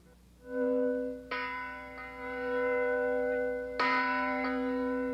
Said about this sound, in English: With the final ringing of this bell, I officially declare the British Columbia Penitentiary to be closed.